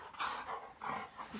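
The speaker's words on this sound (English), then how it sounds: "Silly dog." A dog whimpers in short, high, drawn-out whines, three or four close cries in quick succession from nearby, with no talking.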